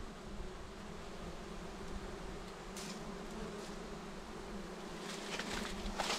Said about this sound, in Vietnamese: Ô, tổ ong ruồi. Khổng lồ, khổng lồ, khổng lồ.